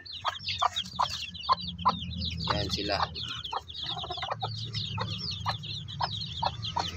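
A native hen clucking softly and steadily while three-day-old shamo asil chicks cheep rapidly and continuously in high chirps, close by, with brief speech.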